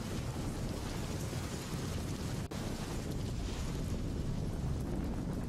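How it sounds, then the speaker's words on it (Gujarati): Light monsoon rain falls steadily in Savarkundla, Amreli district, Gujarat, making a dense, even hiss of drops with a low rumbling wash underneath and no voices. "અમરેલીના સાવરકુંડલામાં પંથકની અંદર પણ ધીમી ધારે વરસાદ શરૂ થયો હતો."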